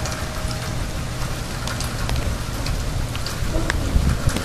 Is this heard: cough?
no